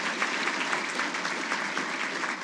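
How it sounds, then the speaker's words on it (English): An audience at the Defense Logistics Agency annual awards ceremony applauds its honorees, a dense, even wash of clapping from a large room that holds steady for a couple of seconds with no voices over it. "Let's give them a round of applause."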